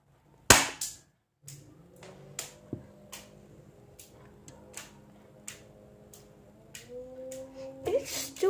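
An airsoft pistol fires one loud, sharp snap up close, followed by scattered light ticks and clicks of the pellet bouncing, with faint voices in the background.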